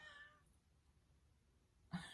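A house cat meows faintly at a closed door in a quiet room, with a soft cry at the start and a brief sharper sound near the end.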